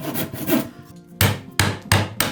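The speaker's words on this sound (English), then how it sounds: "So I used a small chisel, which makes it easier to repair any chips." A small chisel cuts at knots in cypress wood: a rough scraping pass, then three sharp close taps at a steady pace, loud and alone.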